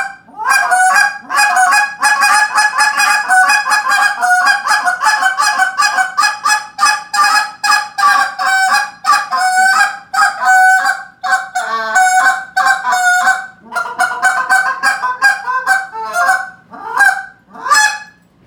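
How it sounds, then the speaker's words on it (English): A goose call blown loudly and continuously, rapid honking notes in long runs with brief pauses, close and alone. "So that's like a lot of goose calling."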